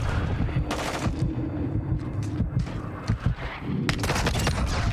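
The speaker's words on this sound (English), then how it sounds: "Friendly airstrike on the way." Dense battle noise in Call of Duty Warzone during a friendly airstrike: continuous rattling gunfire and booming impacts, with sharp bursts starting and stopping throughout.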